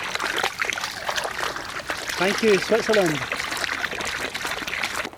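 Fresh mountain water trickles and splashes beside a path in Switzerland, a steady watery patter heard close by under a man's speech.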